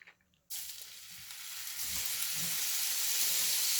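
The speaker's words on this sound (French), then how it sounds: "je vais faire revenir toutes mes morceaux de poulet" After a brief quiet moment, chicken pieces hit hot olive oil with a sudden loud sizzle. The frying crackles steadily and grows slightly louder toward the end.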